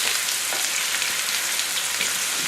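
Chopped onion frying in a small pan on the stove, giving a steady, close, unbroken sizzle with fine crackle throughout and no voices.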